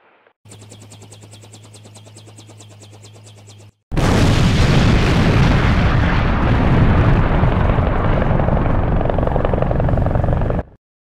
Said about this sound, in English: I'm calling in an airstrike.